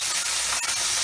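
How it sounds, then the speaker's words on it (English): A pan deglazed with beef broth after browning a roast gives off a loud, continuous steamy hiss and sizzle, brief and close. "I'm going to go ahead and deglaze this pan right here"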